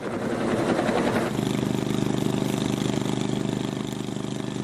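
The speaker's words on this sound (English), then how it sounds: "these helicopters are supporting the flanking of this burn" Helicopters bucketing water over a 600-hectare wildfire backburn in British Columbia: a steady, throbbing rotor drone with an engine hum, loud and continuous, shifting tone after a rougher opening second.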